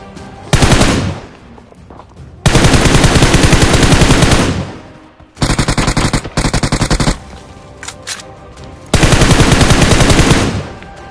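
Bursts of automatic machine gun fire in the battle royale game BGMI, loud and close, in four long sustained volleys separated by short pauses, with no talking over them.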